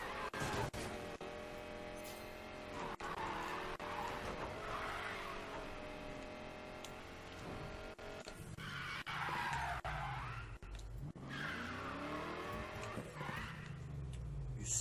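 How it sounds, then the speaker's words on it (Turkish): A drift car in the racing game Need for Speed Payback slides through corners, its engine droning continuously under repeated long tire squeals and skids that swell and fade. "drift yapmadan dönmüyor araba"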